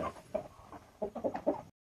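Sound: chickens and roosters clucking

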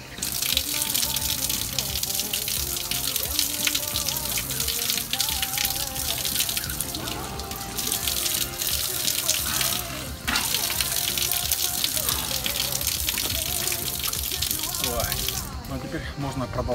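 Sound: drinking water running from a tap

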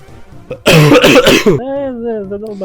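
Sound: coughing and throat clearing

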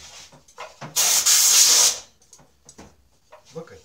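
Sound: spraying a wooden bandsaw box

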